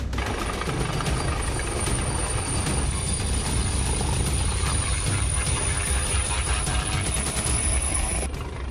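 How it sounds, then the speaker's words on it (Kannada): Helicopter carrying a campaigning politician lifts off again during an aborted landing on the outskirts of Jevargi, Kalaburagi, after plastic bags blew up; a loud, steady rotor and engine roar fills the whole stretch with no talk. "ಹೆಲಿಕಾಪ್ಟರ್ ಲ್ಯಾಂಡಿಂಗ್ ವೇಳೆ ಪ್ಲಾಸ್ಟಿಕ್ ಚೀಲಗಳು ಹಾರಿ ಬಂತು ತಕ್ಷಣ ಪೈಲಟ್ ಹೆಲಿಕಾಪ್ಟರ್ ನಿಲ್ಲಿಸದೆ ಮೇಲೆ ಹಾರಿಸಿತು"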